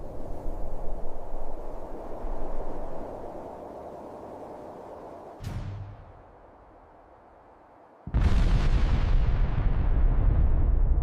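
A dramatized massive explosion of the Tunguska event: a loud, dense roaring rumble gives way to a sharp blast and fading hush, then a second huge roaring burst erupts and holds at full strength.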